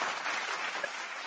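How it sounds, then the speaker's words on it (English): Short applause sound effect played on a wrestling talk show, a thin, quiet spatter of clapping lasting just over a second. "That applause is weak, bro."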